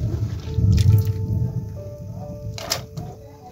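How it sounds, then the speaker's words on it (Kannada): Water is poured into a cooking pot holding washed cluster beans, a brief close splashing gush early on followed by a few scattered drips and small splashes. "ನೀರು ಹಿಂಗಿರೋ ಥರ ಹಾಕೊಳ್ಳೋಣ"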